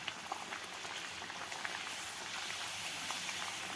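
Puri dough deep-frying in hot oil, a dense, steady crackling bubble and hiss that holds evenly throughout with no break.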